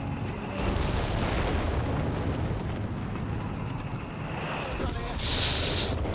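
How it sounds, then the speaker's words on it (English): Howitzer shelling in the strategy game Company of Heroes 3, with heavy booms and rolling blasts over continuous battle noise, loud throughout, and a hissing burst near the end. "Base howitzers coming through from Havoc."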